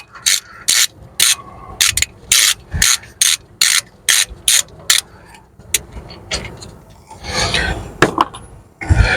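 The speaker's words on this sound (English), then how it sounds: "So I'll undo these 10mm bolts." A ratchet undoing 10mm bolts on the front suspension of a Cadillac SRX: a close, loud, rhythmic run of clicking bursts, then slower scraping and rubbing of tools on metal.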